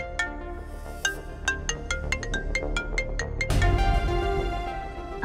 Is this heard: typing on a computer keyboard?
no